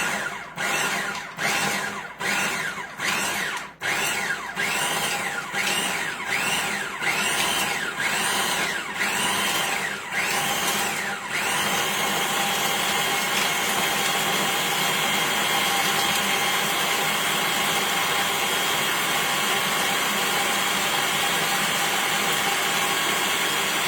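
Food processor pulsing dandelion greens into pesto: about a dozen quick whirring bursts with short gaps, then one long continuous blending run, loud and close.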